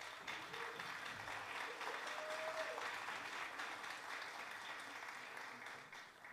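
Steady applause from a seated audience at a song contest in São Paulo, greeting a contestant as she comes onstage; dense, even clapping runs the whole stretch at moderate volume, with a faint voice briefly over it.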